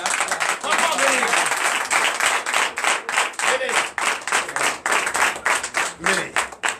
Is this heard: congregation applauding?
yes